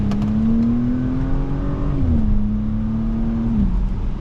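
A 2023 Audi S4 with a turbo V6 accelerates under load, its engine droning loud and close, climbing in pitch, dipping at a gear shift and then pulling again.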